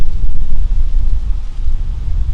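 Strong gusty wind buffets the microphone outdoors on a hilltop near a cemetery, a loud continuous low rumble with no speech.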